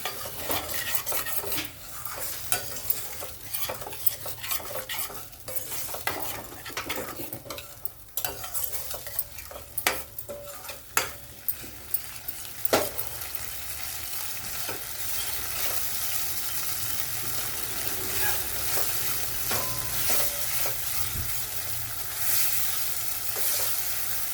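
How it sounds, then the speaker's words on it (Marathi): Spice masala frying with coconut in a pan for a mixed dal: rapid scraping and clattering stirs with a utensil over a constant close sizzle that settles into a steady hiss in the second half. "मसाल्याला बी चांगलं परतून घेऊ"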